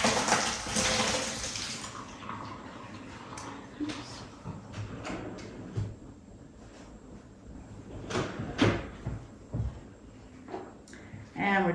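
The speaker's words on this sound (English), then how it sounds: "We'll drain these off." Boiled yellow potatoes being drained give a loud rush of pouring water for the first couple of seconds, then light knocks and clatter of the pot, with people talking throughout.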